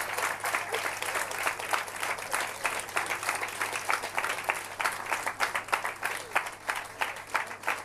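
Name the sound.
class applauding, clapping hands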